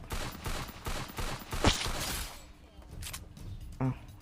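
M500 shotgun fire in the video game Free Fire, a couple of sharp blasts amid busy game effects, with excited talk running over much of it.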